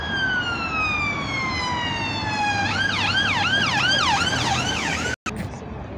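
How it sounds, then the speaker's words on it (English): Ambulance siren on a road by a bus station, first a long falling wail, then a rapid yelp cycling up and down, loud and close over steady traffic noise before cutting off abruptly near the end. "One ambulance coming up here."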